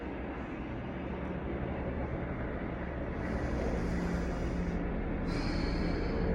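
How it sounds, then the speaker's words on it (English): Helicopters fly over a city, heard as a continuous broadband rotor drone that grows louder partway through and holds steady without speech. "we got helicopters now"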